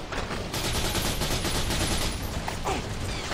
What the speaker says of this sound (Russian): Хотя с такой стрельбой, конечно.